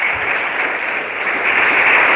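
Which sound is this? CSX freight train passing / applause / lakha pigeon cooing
applause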